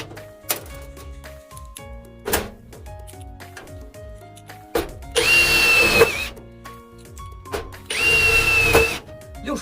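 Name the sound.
Shida 60Nm cordless lithium drill driving self-drilling screw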